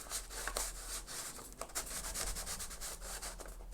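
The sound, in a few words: vintage paper envelope pushed into journal pocket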